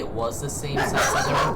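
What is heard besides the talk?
dog barking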